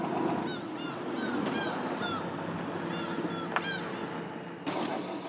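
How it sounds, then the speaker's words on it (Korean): Seagulls call repeatedly over the steady rumble of a boat arriving at a bluefin tuna farm pen at sea, with sharp cries scattered throughout and a louder burst near the end. "참다랑어 포획을 위해 배가 도착하자 갈매기들이 먼저 반기는 모양새입니다"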